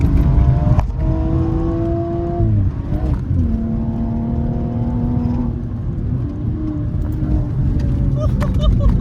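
BMW M135i with the N55 engine being driven hard, its engine droning loudly and close with rising and falling revs held through gears, no talk heard.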